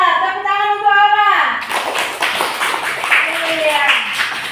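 Schoolchildren in a classroom clap their hands together in a quick burst of patterned clapping, near and loud, after a voice sings out over the start.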